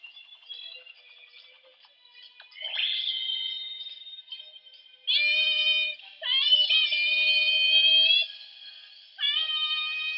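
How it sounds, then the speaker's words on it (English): Twisting and mode-switch effects from a Sailor Moon Proplica power wand toy: high electronic chime-like tones in several bursts, rising and sustained, then a final short burst, fairly loud with no talking. "Oh, it's got the twisting noises."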